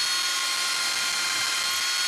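Power drill fitted with a wood bit running into a wall, a continuous bright whine held steady and close throughout, with no pause.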